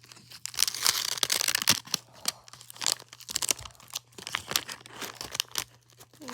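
A 35-year-old wax pack of baseball cards is torn open up close, giving dense, irregular crinkling and tearing of stiff, old wax paper in quick bursts, with no voices.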